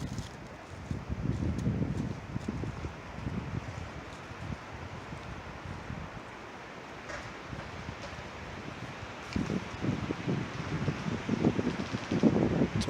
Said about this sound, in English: Bro, these trees are literally swaying in the wind.